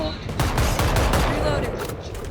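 Rapid automatic gunfire in Valorant, a dense continuous burst of shots filling the whole moment at close range, with a voice faintly mixed in.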